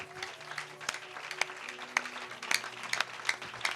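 A church congregation offers applause in acclamation during a service, a faint, distant patter of many hands clapping over a low hum, with some louder individual claps standing out.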